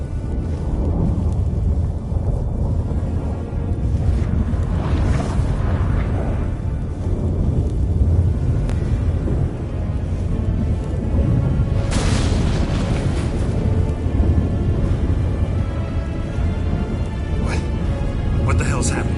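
A thunderstorm in The Witcher 3 video game rolls on with a steady, heavy rumble and a few louder booming swells, while voices speak over it.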